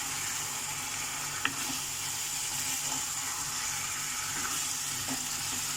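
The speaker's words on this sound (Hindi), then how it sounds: "अभी चिकन का मसाले के साथ भुनाई होगा।" Chicken pieces roasting with masala spices, including salt and garam masala, give off a steady close sizzle, broken by a few soft stirring knocks and scrapes in the pan.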